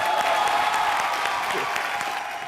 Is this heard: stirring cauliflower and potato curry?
no